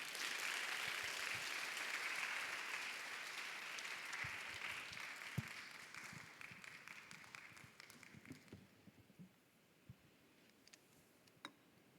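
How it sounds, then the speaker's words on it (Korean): A church congregation applauds steadily for several seconds to welcome a pastor, then the clapping thins out into a few scattered claps and fades away. "우리 김정영 목사님을 다시 한번 박수로 환영하겠습니다."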